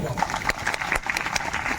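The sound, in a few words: audience applause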